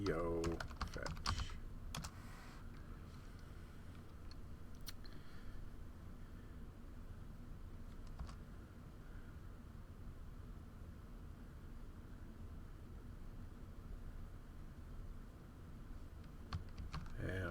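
A computer keyboard is typed on, with a brisk cluster of key clicks at the start and scattered taps later over a quiet steady hum, while a voice speaks over the keystrokes.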